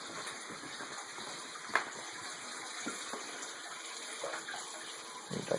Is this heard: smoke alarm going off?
no